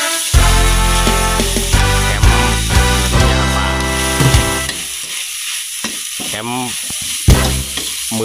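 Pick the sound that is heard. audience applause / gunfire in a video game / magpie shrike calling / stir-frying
stir-frying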